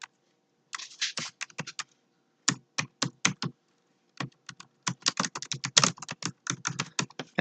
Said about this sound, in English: So let's type some information in here.